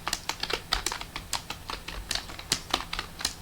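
Keys on a computer keyboard clatter in quick, uneven taps during a timed typing test, close and fairly quiet, with a steady run of sharp clicks and no talking.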